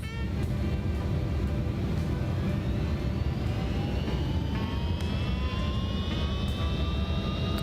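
Jet engines of an MD-11F freighter spooling up to takeoff power in the X-Plane 12 flight simulator, a loud, steady roar with rising whining tones that climb over several seconds, continuous and without talk.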